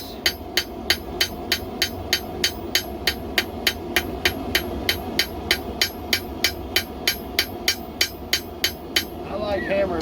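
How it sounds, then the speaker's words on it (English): A knife blade's bevels are hammered on an anvil at a forge, with a long run of evenly spaced, sharp, ringing metallic strikes over a steady background hum. "I like hammering mine in."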